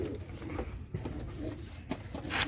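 Pigeons coo softly in a home loft where a pair has just hatched chicks, low murmuring calls at moderate distance over a steady background.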